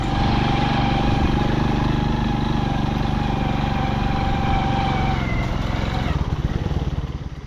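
A loud chorus of eung pod toads, a dense, continuous droning and pulsing that stays close and steady before easing slightly near the end.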